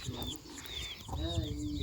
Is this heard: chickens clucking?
yes